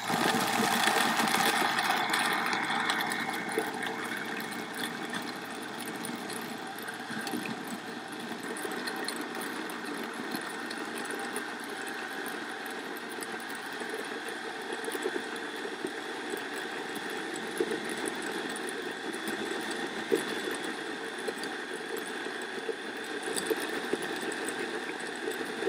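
A blender runs slowly through a thick fermented chili pepper paste, giving a steady, low motor whir that starts slightly louder then settles into an even drone for the rest of the stretch.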